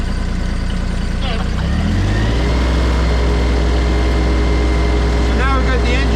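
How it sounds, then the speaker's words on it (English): A tractor engine idles with a low throbbing hum, then revs up to about 2,000 RPM and holds a louder, steady drone; a voice briefly speaks near the end. "Okay, I'm going to rev the engine up again."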